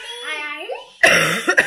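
A child coughs amid a family birthday gathering, a short harsh burst after a brief stretch of voiced sound, with a second smaller cough following.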